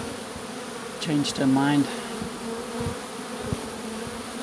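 Honeybees from a swarm that changed course pour back into their hive, making a steady, close insect buzz throughout, with a person speaking briefly over it near the start.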